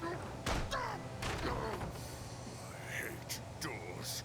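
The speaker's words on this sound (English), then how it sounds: "Doors." Door slams in an animated fantasy show, a few sharp, close thuds in the first half followed by quieter knocks, with voices talking over them.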